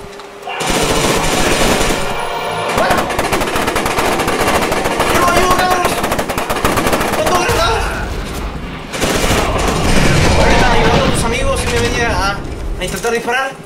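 Machine gun fire in the shooter F.E.A.R. 2 hammers out in long, loud, sustained bursts with brief breaks, layered with game sounds and a voice talking over the shooting.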